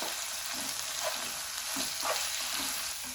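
Okra masala fries in a pan as coriander powder is stirred in, giving a bright continuous hiss of sizzling oil with faint, regular scraping strokes beneath it.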